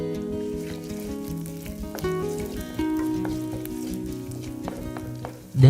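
Curry leaves and pandan sizzle steadily in hot coconut oil for a pineapple curry, a dense close frying crackle with a few sharper pops and a louder burst at the end.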